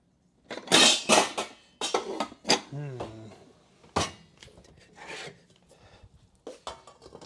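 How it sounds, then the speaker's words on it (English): A smaller lid is set onto a cooking pot in a home kitchen, making scraping, rattling metallic clatters and rubbing sounds in short bursts, with a person talking between them. "now I add the lid"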